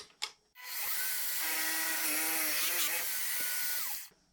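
A power tool bites through pallet-wood plywood in one sustained, loud, close run of about three and a half seconds, its pitch wavering as it cuts, after a brief knock.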